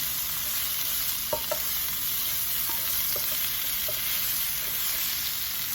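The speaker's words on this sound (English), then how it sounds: "we're gonna mix this up again" Green beans with smoked apple sage Field Roast sausage being stirred in a pan: a steady, dense sizzle with a few light clicks and scrapes of the utensil, no talking.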